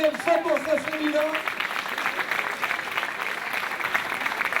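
Applause at an OFAC 2013 awards ceremony for an all-female podium, a steady crowd clapping that continues throughout, with a voice speaking briefly over the start.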